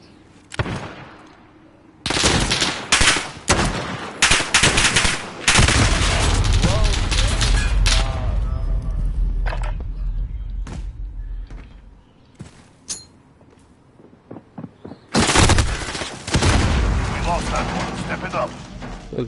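The Odin, a fully automatic gun in a video game, fires in long rapid bursts with loud sustained rattling and short pauses between volleys. Someone talks in the gaps between bursts.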